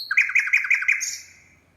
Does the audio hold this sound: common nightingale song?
yes